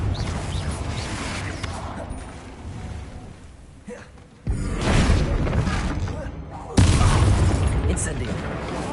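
A Confringo blasting spell explodes in Hogwarts Legacy with loud booming bursts, a sharp blast near the middle and another later, over continuous battle noise and shouted voices.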